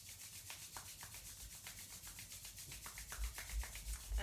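Palms rubbed together briskly in a quiet yoga session, making a steady, soft, close swishing friction with a quick back-and-forth rhythm throughout.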